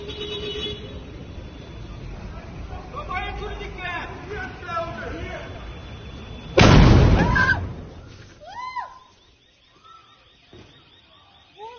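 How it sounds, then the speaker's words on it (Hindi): Blasts in Lviv, Ukraine: one sudden heavy explosion booms out of a noisy street scene with wailing sirens and murmuring voices, followed by echoing rumble and rising siren tones. "यूक्रेन के लवीव के इलाके में कई सारे बड़े बड़े धमाके हुए हैं"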